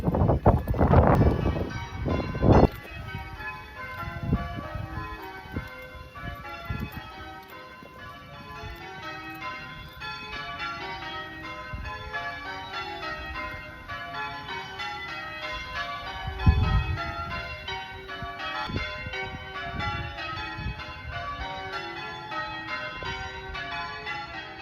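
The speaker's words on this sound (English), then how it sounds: "listened to the church bells that went on for several minutes" Church bells of a medieval church in the English hamlet of Binsey peal continuously in a rich, overlapping cascade, ringing steadily with a few louder knocks and clatters near the start.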